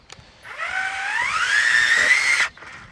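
A Ryobi post hole borer digging a hole: a motor whine that climbs in pitch over about two seconds, holds high and loud, then cuts off abruptly into near silence.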